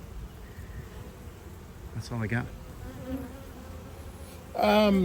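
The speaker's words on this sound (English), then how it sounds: "Don't be surprised if you have thousands of bees hanging out the front entrance in the evening and probably all night long." Honey bees drone steadily at a hive entrance in hot weather, a continuous hum with louder passes as individual bees fly close to the microphone; a person speaks briefly.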